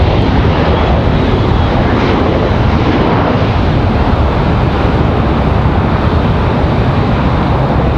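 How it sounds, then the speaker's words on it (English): A JetBlue Airbus A320 touches down on landing at Raleigh-Durham, a loud, steady broadband roar of jet engines and rushing air filling the whole stretch without a break. "you'll hear JetBlue 404 here. They touch down. Normal A320 livery today"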